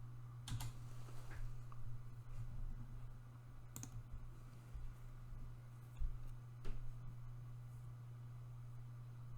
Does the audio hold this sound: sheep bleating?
no